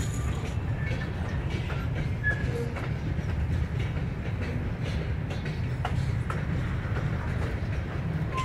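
A train rolls by with a steady low rumble and rhythmic clickety-clack of wheels, punctuated by brief metallic squeals.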